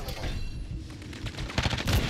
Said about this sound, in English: 88 millisecond sprint to fire, 800 round per minute rate of fire